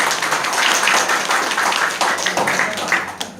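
An audience at a sports club gathering claps for Karisma, a dense, fairly loud round of applause that holds steady for a few seconds before thinning out.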